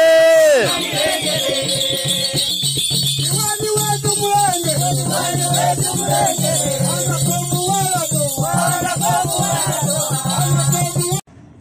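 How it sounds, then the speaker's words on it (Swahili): A crowd ululating at a ward councillor's campaign rally in Ludende, loud high trilling voices wavering and overlapping almost without pause for over ten seconds before stopping abruptly. "Vigelegele."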